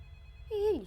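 A telephone ringing inside a Roblox game: a single short electronic ring tone that starts suddenly and bends downward, faint over a low background hum.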